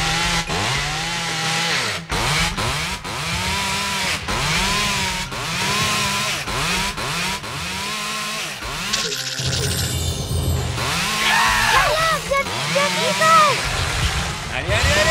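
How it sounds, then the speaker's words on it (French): Cartoon chainsaw cutting through forest trees, its engine snarling in repeated rising revs and bites, with animated voices and music layered throughout. "Tronçonneuse, elle coupe tout."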